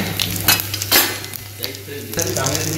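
Whole cumin seeds sizzle steadily in hot oil in a kadai alongside dried red chillies, cinnamon, cloves and cardamom, a dense close frying hiss with a few stirring scrapes and clinks.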